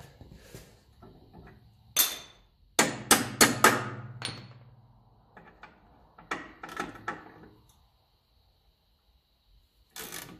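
A part on a 1954 Ferguson TEF diesel tractor is tapped out with a hammer, a cluster of sharp metallic knocks, some quick and close together, with quieter taps between and one more strike near the end.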